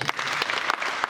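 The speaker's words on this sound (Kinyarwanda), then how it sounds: "Mukomereye amashyi." Guests at a wedding ceremony clap together in a brief, dense burst of applause, close and even throughout.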